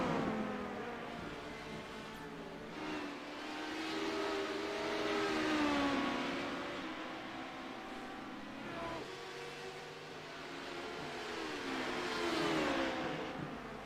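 LMP2 prototype race cars in the Legacy Sports Car Series at Watkins Glen, one carrying Taco Bell sponsorship, roar past at high revs, engine pitch rising and falling through gear changes as they sweep by, sustained and loud with no talk.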